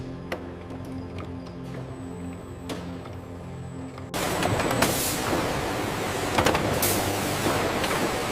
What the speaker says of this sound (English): In close-up, automated machines work in flawless sync.